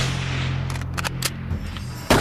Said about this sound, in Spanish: Cuando los disparos resonaron en la plaza